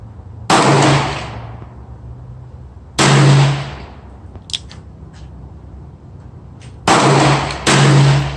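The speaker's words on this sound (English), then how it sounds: "first I'm gonna be shooting with 38 special at 25 yards, right upper target, 6 shot" A Smith & Wesson Model 19-5 revolver firing .38 Special rounds at 25 yards, with four loud, sharp reports spaced irregularly over several seconds and a faint clatter between them.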